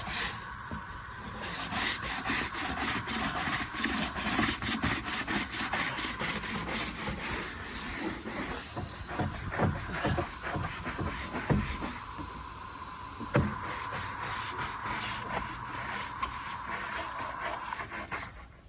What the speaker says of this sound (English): just finished scrubbing this deck down